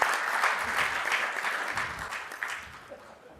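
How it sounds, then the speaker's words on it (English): An audience at a conference session on developing takaful markets applauds the panel, a dense burst of clapping that gradually thins and fades toward the end, with some voices mixed in. "I'd like to do another round of applause for the panel"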